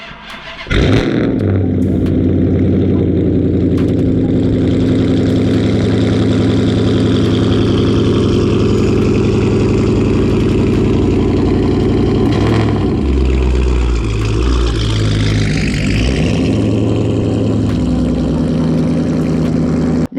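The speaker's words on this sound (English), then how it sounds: "let me give y'all that cold start on this nice 60-degree day" After a brief crank, a Dodge Challenger starts cold and settles into a loud, throaty idle close by. A mid-clip blip in the rumble comes before it evens out again.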